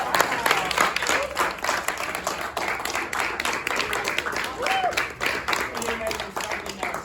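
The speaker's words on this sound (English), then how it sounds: "Can we give a round of applause for our host for even having us here tonight?" Audience at an evening hip hop political gathering breaks into sustained applause and clapping for the host, dense and continuous, with some voices mixed in amid the crowd.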